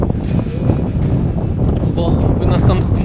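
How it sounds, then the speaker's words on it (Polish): Strong wind buffets the microphone in rough gusts at a campsite on Jasmund, Rügen, while a person talks over the roaring noise. "No naprawdę wiatr jest silny dzisiaj."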